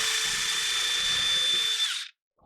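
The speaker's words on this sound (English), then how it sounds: "Take your drill and drill through the center." A power drill whines at a steady high pitch for about two seconds, then winds down and stops, leaving silence.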